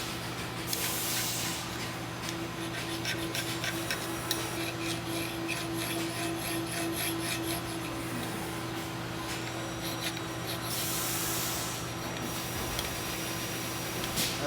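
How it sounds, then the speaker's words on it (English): A hand file rasps steadily on a Fowler rifle trigger guard, giving repeated close, gritty strokes in a continuous rhythm with brief louder bursts, and no talking. "it's better to have to file this a little bit and prep it"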